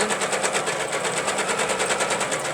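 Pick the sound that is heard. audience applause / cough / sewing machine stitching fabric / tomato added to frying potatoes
sewing machine stitching fabric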